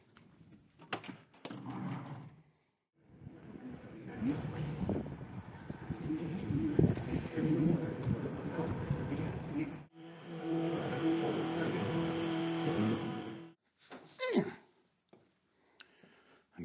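A Kubota SVL75-3 compact track loader drives into a shop on a cold day, its diesel engine rumbling and revving in bursts, close by, with track clatter and brief pauses between runs.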